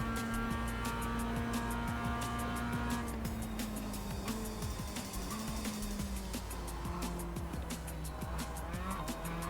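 Simulated Mazda MX-5 Cup race car at Charlotte Roval in iRacing, braking into a chicane: steady engine drone with shifting harmonic tones as revs drop and rise, faint tire scrub, continuous and loud with no talk.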